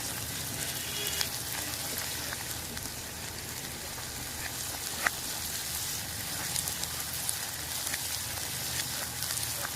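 Bitter gourd sautéing in a pan for a quick fry, a dense continuous sizzle and crackle with occasional sharper pops, steady and close without talk.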